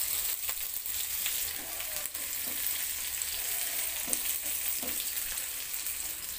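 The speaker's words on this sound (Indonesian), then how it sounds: "masukkan bawang bombay, tumis kembali hingga bawang bombaynya layu" Sliced onions are sautéed in a pan after garlic, a soft continuous sizzle with faint scraping stir sounds popping through now and then, fairly quiet and with no voices.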